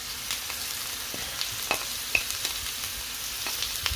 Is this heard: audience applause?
no